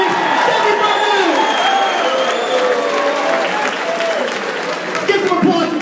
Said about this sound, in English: Give some applause to both those fighters.